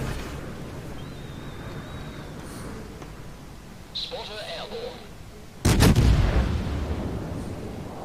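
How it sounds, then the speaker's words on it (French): Naval artillery fire in World of Warships, with HMAS Perth in play: quiet battle ambience with a faint distant report near the middle, then a loud booming salvo near the end that rumbles on. "Il commence à tirer évidemment sur le Charnor."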